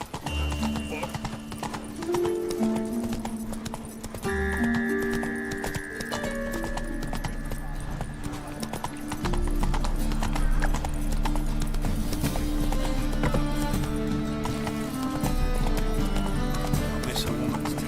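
A horse galloping in The Witcher 3, its hooves clip-clopping in a steady rhythm over a game music score, with a whinny and snorts rising through it and a voice speaking.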